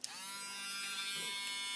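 A Dremel rotary tool whines at high speed with a steady electric buzz, close up, while guitar frets are polished, a faint scrape underneath and no talking.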